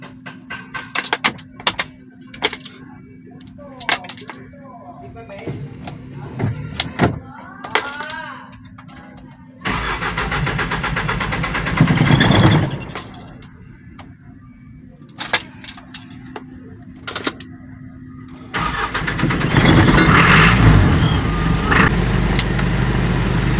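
Car engine starting and settling into a steady idle, checked for a blinking battery warning light, with the engine noise rising loudly in two long stretches between quieter clicks and handling sounds, and people talking briefly nearby.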